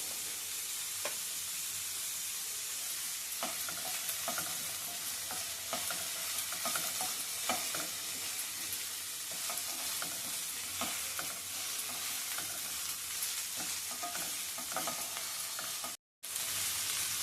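Onions frying with ginger-garlic paste for a tomato, fenugreek leaf and egg curry, a constant bright sizzle with repeated scraping strokes of a spoon stirring the pan, close up with no voices and a brief dropout near the end.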